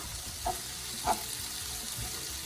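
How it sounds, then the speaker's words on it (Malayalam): Turmeric powder is stirred into a hot pan with a soft continuous sizzle, punctuated by two distinct spoon scrapes or taps near the start, with no talking. "ഇനി നമുക്ക് നന്നായിട്ടൊന്ന് ഇളക്കി കൊടുക്കാം."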